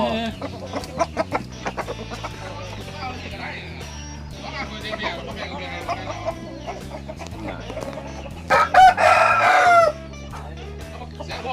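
Chickens and roosters at an evening chicken coop in rural Thailand cluck and crow, a rooster call rising loudly near the end, all beneath music and people talking.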